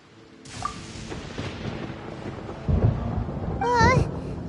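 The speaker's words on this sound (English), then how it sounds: "Paimon hears thunder!" Thunder from the game Genshin Impact rumbles as a low boom in the middle and swells again toward the end, with a brief character vocal cry layered over the rumble.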